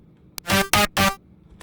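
A short synth lead phrase played in FL Studio for a future house track, with three bright, harmonically rich sustained notes after a quick click, loud and close with nothing else playing.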